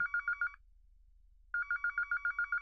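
A telephone bell rings in quick repeated bursts, a half-second burst, then a pause, then a longer run of rapid trills, clear and fairly close with no talking.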